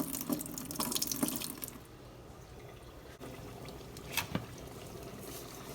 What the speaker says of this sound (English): The water is kind of high. I'm thinking about pouring a little bit more out